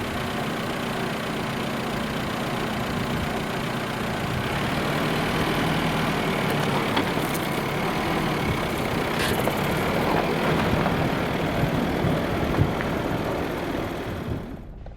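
Fiat Panda 4x4 engine labouring along a dusty off-road dirt track, a steady mid-pitched drone with rough knocking texture, continuous and fairly close, no talk over it.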